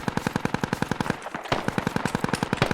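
Rapid automatic gunfire in the Squad military shooter game, a steady stream of closely spaced loud shots with a brief lull midway before the burst resumes.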